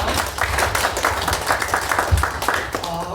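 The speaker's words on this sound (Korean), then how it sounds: "강의 박수 올리겠습니다." A church congregation claps together during a Sunday worship service, brisk loud clapping close by with a rhythmic pulse across the short stretch.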